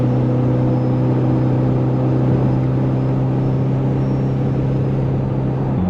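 A car fitted with Wunderladen Racing 6-pot bolt-on calipers slows on engine braking, with a loud, steady low engine drone and road rumble holding evenly without revving.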